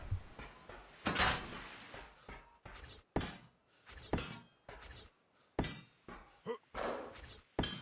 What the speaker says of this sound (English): Slap in the doors.